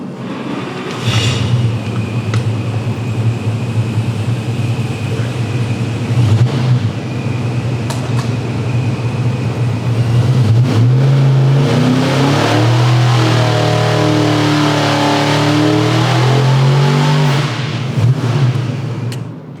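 A tuned 1200 hp car engine strapped to a dyno roars loud and close through a sustained wide-open pull, the revs climbing steadily and then holding near the top.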